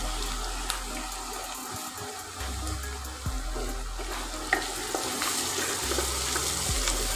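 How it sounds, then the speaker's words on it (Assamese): Ginger garlic paste frying in a pan for a local chicken curry, a steady close sizzle with occasional stirring scrapes and clinks throughout, no voices. "এইখিনি একেবাৰে ভালদৰে ভাজি ল'ম,"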